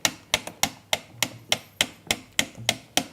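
A clockwork bird scarer mechanism unwinding, tripping levers and arms, gives a steady run of sharp, close mechanical knocks, about three per second, with no voices.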